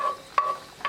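Garlic in olive oil in a frying pan, a brief sizzle under a couple of short scrapes from a utensil stirring in the pan, heard close with no voices.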